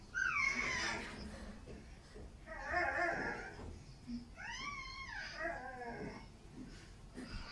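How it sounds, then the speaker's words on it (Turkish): A dog whimpers, yips and gives short howl-like whines in several separate bursts, fairly quiet and close, with faint background sound and no clear talk. "Köpekle sohbet eden bir bebek var."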